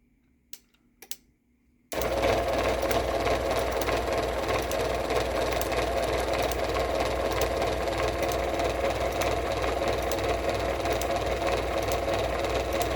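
An uncased Moore-O-Matic machine driven by a half-horsepower, 1000 RPM, 4.5-amp motor starts after a couple of faint clicks, then hums and whirs steadily at close range with no talk.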